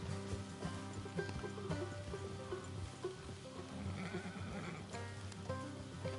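Horses in Red Dead Redemption 2 neigh and whinny amid a dense game soundscape of music and ambient noise, with some hoof clip-clop and a steady layered background throughout.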